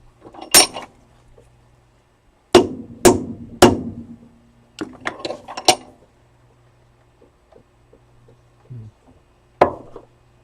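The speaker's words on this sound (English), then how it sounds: "Okay, give a little hit with the hammer right here." Hammer blows on a U-joint being fitted to an MGB driveshaft, with sharp metallic strikes at close range: a single hit, then a quick cluster of three, a pair, and a last lone tap after scattered small knocks.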